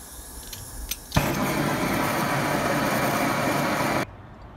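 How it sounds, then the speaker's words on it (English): A Mini Dragon blow torch releases gas with a click, then a loud, steady, broadband hiss that holds for about three seconds before cutting off abruptly, heard up close with no talk. "So to turn it on, you just turn on the gas."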